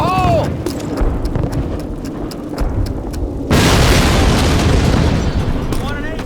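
A Call of Duty D-Day battle at Sainte-Mère-Église, where shouted soldier voices give way to a sudden loud explosive detonation, followed by a sustained roaring, crackling blast wash.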